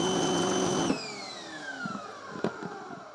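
Wall-mounted electric pressure washer with a 2.5 orifice nozzle, a steady motor hum that cuts off and winds down with a falling pitch, followed by a few faint clicks and knocks.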